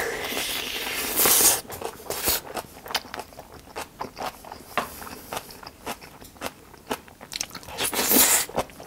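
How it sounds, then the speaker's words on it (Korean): Eating hot rice mixed and topped with napa cabbage kimchi, with crisp crunchy bites and wet chewing repeating at an uneven pace close to the mic, a few sharper crunches standing out, and no talking. "뜨끈뜨끈한 밥 비비가 김치 올린 거 한 사리 합시다"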